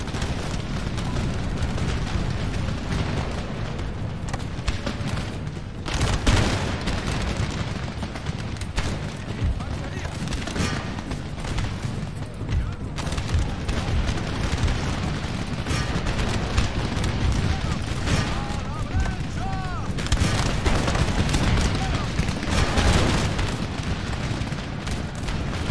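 A battle in the game Empire Total War rages with a continuous wall of musket fusillades and booming artillery, dense and loud without letup, with a voice talking over it at times.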